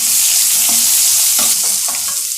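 Sliced onions sizzle steadily in a spoonful of hot oil, a bright frying hiss with a few soft scraping stirs of a spatula, close and continuous.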